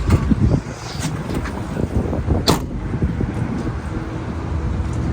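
Diesel engine of a four-wheel-drive forklift running steadily at close range, a continuous rumbling drone with some wind buffeting on the microphone and no talk.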